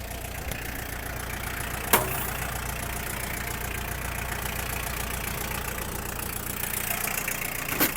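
A Yanmar FX-42 mini tractor with a 1.5-litre engine idles steadily, a continuous near rumble with one sharp click just before the two-second mark, and no voices.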